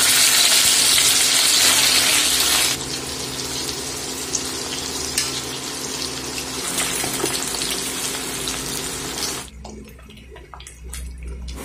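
Paneer pieces frying in hot oil on a tawa, a steady loud sizzle that drops off near the end, with no talking.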